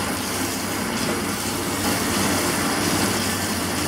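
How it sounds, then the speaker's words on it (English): Cold tap water running steadily over cooked noodles in a colander, a continuous broadband rush and splash with no breaks, fairly loud and close, no talk. "Just rinse it under cold water."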